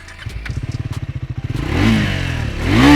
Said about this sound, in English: let's check out the exhaust note first.